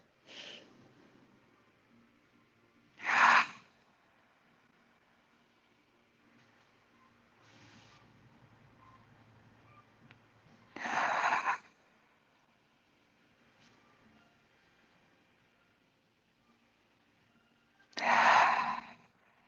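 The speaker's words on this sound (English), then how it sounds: "Let's just start with some gentle breathing into the nose and out through the mouth." Gentle breathing in through the nose and out through the mouth, close and quiet, with three louder exhales spaced several seconds apart among softer breaths.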